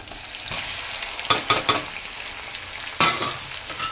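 Stuffed brinjals drop into a pan of hot masala and fry with a loud close sizzle, with a few sharp bursts of spitting and stirring clatter over a steady hiss and no talking.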